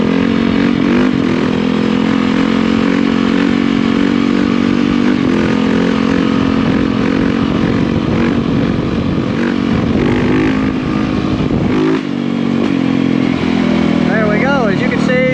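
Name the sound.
motorcycle engine revving and shifting during wheelie riding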